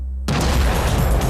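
A desert test explosion, staged to mimic a UFO crash, blasts a crater: a sudden loud boom bursts in after a brief low rumble and roars on as a dense, sustained blast.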